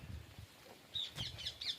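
Parrots on a farm during the last days of the summer crop squawk in a few short, shrill calls late in the moment, faint and somewhat distant over quiet background.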